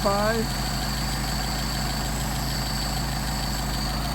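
A Mercedes 190SL engine idles on Solex 44PHH carburetors during synchronizing, a steady close low hum and drone that runs unbroken, with a brief higher squeal at the very start and someone talking over it.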